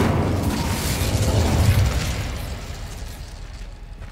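A fiery Incendio spell blast from Hogwarts Legacy, heard as a loud, rumbling whoosh that swells for about two seconds and then fades into a lingering roar.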